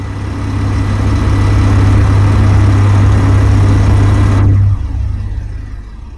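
A hydrogen engine in the game Space Engineers runs with a loud, steady droning hum and broadband whir, then cuts off abruptly near the end, leaving a fading tail.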